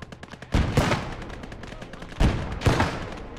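A 10 centimeter artillery gun firing in a World War II hedgerow battle game: a few heavy booming shots at irregular intervals with rumbling tails, over background battle noise.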